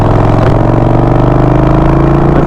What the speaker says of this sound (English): I'm feeling out my engine. It's really high right now.